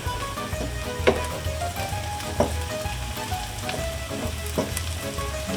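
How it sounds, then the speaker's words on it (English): Chopped onions fry and brown in a pan as the first step of an Italian Bolognese sauce, giving a steady close sizzle with occasional louder pops and the scrape of stirring. "So really what I'm doing here is waiting for our onions to get a nice brown on them."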